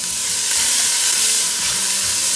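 Onion and chiles frying in oil over medium heat give a steady, close sizzle with a soft crackle, and a few light stirring scrapes run underneath.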